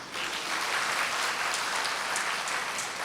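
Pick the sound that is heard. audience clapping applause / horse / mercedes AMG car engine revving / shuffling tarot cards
audience clapping applause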